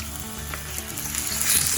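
Prawns fry in a hot pan for a salad, a steady loud sizzle that swells toward the end with faint stirring clatter, no talk.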